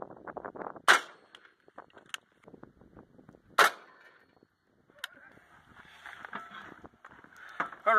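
M80 rifle rounds fired at an AR500 level III steel armor plate: three sharp, loud cracks spaced apart, each ringing briefly, amid quiet outdoor rustling and faint movement between shots.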